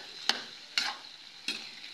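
Winged beans (sigarilyas) being sautéed, a soft steady sizzle broken by three sharp scraping stirs in the pan, close and fairly quiet.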